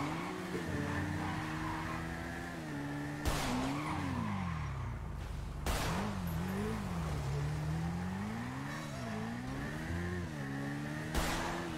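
A car in GTA roleplay skids and squeals on a shot-out tire, engine droning and shifting pitch as it hauls along, with several sharp bursts breaking in over the sustained tire scream.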